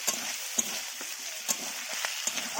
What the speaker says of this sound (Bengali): একটা বড় পেঁয়াজ বেটে রেখেছিলাম সেটাও দিয়ে দিলাম ভালো করে নাড়াচাড়া করে নিচ্ছি